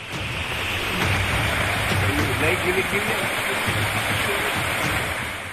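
Torrential monsoon rain in the Pithoragarh mountains of Dharchula, Uttarakhand, during a cloudburst: a loud, steady roaring wash of falling water, with a muffled voice underneath.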